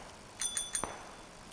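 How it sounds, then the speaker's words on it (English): A bicycle bell in the PUBG video game rings three quick times in a row, each chime bright and metallic, followed by a softer tap. "Make sure to ring the bell."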